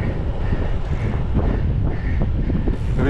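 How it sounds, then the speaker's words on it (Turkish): Wind buffets the microphone while cycling along the Danube river path, a steady low rumbling roar with no pauses, close and fairly loud. "Rüzgar kafama vurdu."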